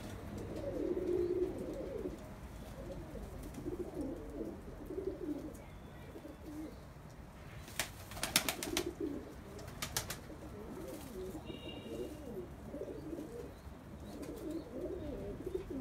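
Pigeons in a pigeon loft coo in soft, low, steady murmurs, with bursts of wing flapping and scraping partway through, all heard fairly quietly at close range.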